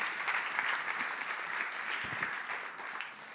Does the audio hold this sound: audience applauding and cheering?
yes